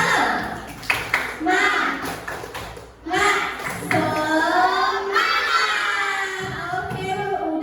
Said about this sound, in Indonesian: Nah, tepuk semangat.